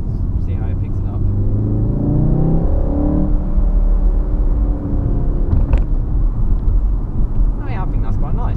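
A Mk7 VW Golf R engine accelerating hard, heard from inside the car: a loud, deep drone whose pitch climbs through a gear and then shifts, with brief talk mixed in.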